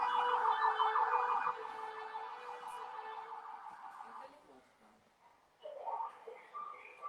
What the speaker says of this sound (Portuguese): Que os bombeiros acabaram de chegar aqui, o barulho ficou meio